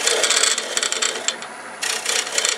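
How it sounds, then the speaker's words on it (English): Metal hollowing tool scraping the inside of a wooden bowl on a lathe, a close, rough rasping that rises and falls in short strokes with brief pauses between passes. "do up and down motion and then a slight scrape side to side"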